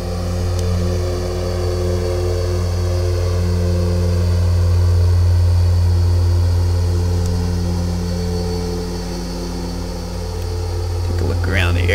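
A propeller aircraft climbs in Flight Simulator X with its throttle eased back, producing a loud, steady, humming engine drone with layered tonal harmonics and a slight swell partway through.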